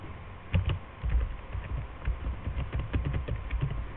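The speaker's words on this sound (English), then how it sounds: "3 marks for taking out your calculator right now and typing in this." Keys pressed on a calculator keypad during a physics tutorial, a steady run of quick, light taps and clicks, close and fairly loud, with no talking.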